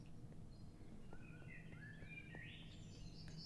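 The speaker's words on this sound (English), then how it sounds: "I love the bird chirping sounds. It's so soothing." Soft bird chirps and trilling song form the ambience in modded Minecraft, several rising calls in a faint, steady natural-sounding backdrop.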